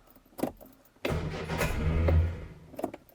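A car engine with too little choke turns over after a couple of brief clicks, catches with a rough, uneven burst, and runs raggedly for a second or two before faltering, close and alone.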